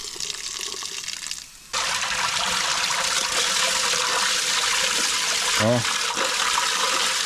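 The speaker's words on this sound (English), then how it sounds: "Nice warm water." Warm water runs steadily from a tap or pipe during repair work on a Kirovets tractor, a continuous gushing rush that starts abruptly and holds strong, with a brief spoken exclamation partway through.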